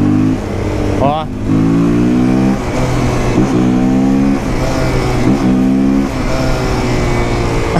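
A Honda CB300R motorcycle running without its air filter, revved hard up through several gears: loud, close engine notes climbing in repeated rising sweeps with brief drops between shifts, a voice briefly calling out over it.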